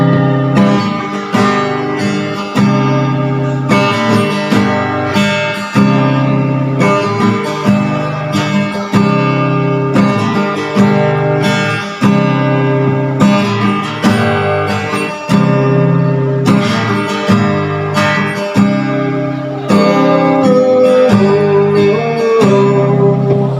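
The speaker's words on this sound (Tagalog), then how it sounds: "ito maganda po talaga itong guitar na to" A strummed acoustic guitar rings out loud and close, playing steady rhythmic chords with a clear, full tone and regular accented strokes, without any voice over it.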